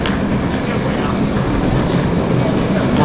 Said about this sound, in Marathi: ही आपली ट्रेन असणार आहे.